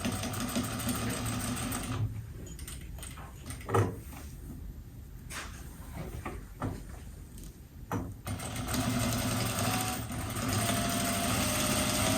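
A sewing machine stitches the seam of a welt-edge pillow in short whirring bursts, with a quieter stretch of brief stops and starts as the fabric is turned at a corner, then longer steady runs; no one speaks.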